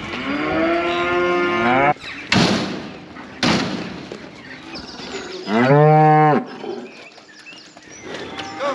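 Cattle on a farm during a busy sale day in the yard, giving several loud, drawn-out moos close by, broken by a couple of sharp bangs like a gate or door slamming between the calls.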